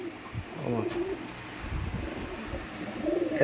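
Rajshahi Giribaz pigeons cooing softly at close range in a few low, throaty bursts, mixed with faint background chatter.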